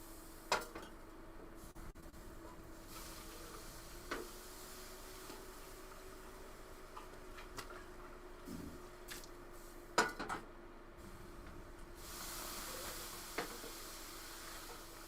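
Coffee being made in a kitchen after water has boiled, with a few soft clinks of cups and dishes and faint hissing over a steady low background hum, fairly quiet and without speech.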